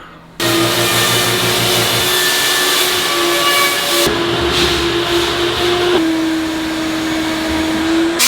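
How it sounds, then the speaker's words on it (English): A steam cleaner works on the interior of a Chevy Silverado pickup, a loud steady close hiss with a whining tone that shifts slightly in pitch, running continuously after a sudden start, no voices. "The steamer is a really good tool to add to our arsenal."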